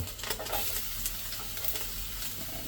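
Garlic sizzles steadily in a hot pan while cooking pancit habhab, a continuous bright frying hiss with faint stirring scrapes, close and even throughout.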